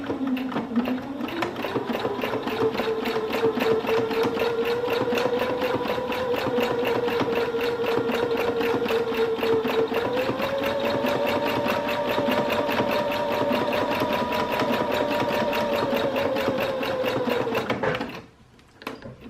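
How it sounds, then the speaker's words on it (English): Sewing machine running a steady zigzag stitch along a raw fabric edge for a bench cushion, a continuous close mechanical whir with a rapid needle rhythm that holds for about eighteen seconds, shifting pitch slightly midway, then stops abruptly. "you set it on zigzag, and you just go along and zigzag down your edge"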